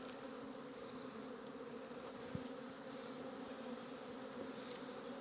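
Honey bee colony in a hive box during an early spring inspection, a faint, steady, continuous hum of many bees up close without any talking.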